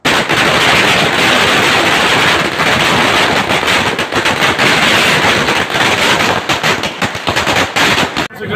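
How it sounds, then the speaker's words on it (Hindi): Firecrackers set off by celebrating supporters at a chowk crackle in a loud, dense, continuous barrage of rapid bangs, close by and sustained until an abrupt stop. "उनके समर्थकों के द्वारा किला घाट चौक पर आतिशबाजी करते हुए खुशियां मनाई है"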